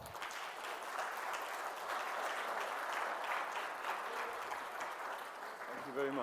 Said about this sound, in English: Моля за бурни аплодисменти за нашия гост Джон Байкрофт.